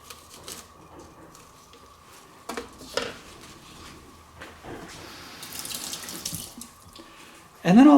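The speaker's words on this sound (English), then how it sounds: "And then I'm going to rinse these seeds down the sink." Kitchen tap water running into a sink while jalapeno seeds are rinsed away, faint and close, with soft splashes, a few light clatters of dishes and a louder gush of water near the end.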